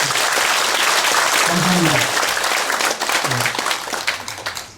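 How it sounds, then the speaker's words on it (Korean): Applause from the audience at a Buddhist eye-opening consecration ceremony for a Buddha statue, a dense, sustained burst of clapping filling the hall, with a voice speaking briefly over it as it begins to thin. "다시 한번 박수로"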